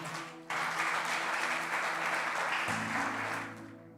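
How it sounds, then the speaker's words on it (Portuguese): Church congregation applauding Jesus, a sudden swell of clapping that holds steady and fairly faint over a low sustained music tone, then fades out. "Quantos podem aplaudir a Jesus?"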